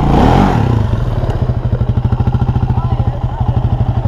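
A dirt bike engine revs hard during a wheelie attempt, a loud, close, rapidly pulsing four-stroke chug after an initial roar, with clattering mechanical noise.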